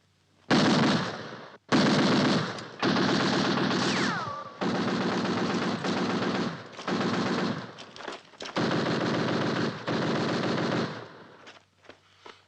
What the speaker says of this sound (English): Fire a few rounds.